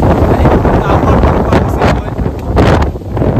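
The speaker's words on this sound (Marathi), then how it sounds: "या ठिकाणी हवेचा वेग खूप आहे" Strong wind roars across the exposed top of Aasheri hill fort during a trek, a loud, continuous buffeting rush battering the microphone, surging and easing slightly but never dropping away.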